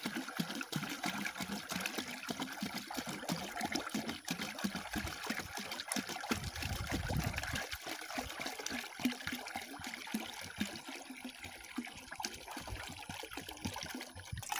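Water pouring steadily into a drum for mixing fertilizer after spraying, a continuous close trickling and splashing rush with no talk.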